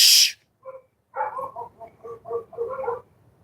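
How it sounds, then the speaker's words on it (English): Dogs bark in a quick irregular burst of yips and short barks, fairly close and loud, after a brief sharp noise at the start. "Why is everybody barking?"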